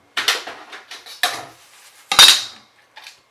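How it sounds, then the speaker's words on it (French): A ruler dropped onto a hard work surface while a paper-scrap album is being made clatters in several sharp, rattling impacts, with the loudest crash near the end and a faint final tap. "j'ai fait un bruit d'enfer en lâchant ma règle"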